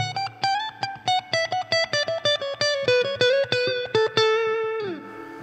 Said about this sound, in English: So the reverb is like the spring echo you're hearing.